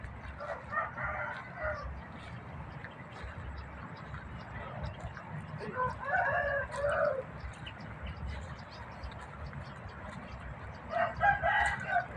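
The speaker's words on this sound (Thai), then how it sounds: "ได้ยินเสียงไก่ขันไหมคะ" Roosters crow a few times in the distance over steady outdoor background noise in a fruit orchard beside fish ponds in the morning, with bursts near the start, middle and end.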